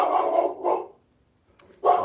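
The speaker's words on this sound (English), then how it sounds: "Yes, my dog is barking." A pet dog barks at home in several loud, close bursts, a quick pair followed by a pause and then another strong bark.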